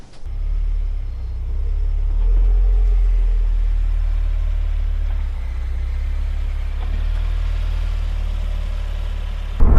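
A 2017 Subaru WRX on the road, heard from inside as a steady, loud low engine and road rumble that holds for the whole stretch with no talking, and a brief bump right at the end.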